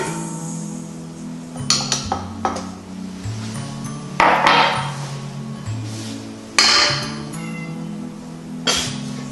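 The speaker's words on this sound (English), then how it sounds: "That's George, my cat." A pet cat meows several times in a home kitchen during muffin baking, short loud calls spaced apart over clinks and knocks of bowls and utensils.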